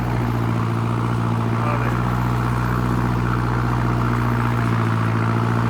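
An Arjun tractor pulls a 13-tine implement in second gear through soft, wet soil under full load, its engine producing a steady, close, heavy drone with a low rumble that holds constant throughout.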